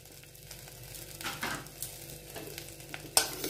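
Spices including bay leaf and turmeric are stirred in a frying pan, a faint low sizzle with soft scraping strokes and one sharp utensil clink near the end.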